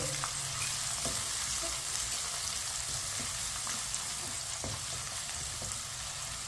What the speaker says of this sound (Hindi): लहसुन और प्याज को ना इसी तरह चम्मच चलाते हुए हल्का सा ब्राउन करना है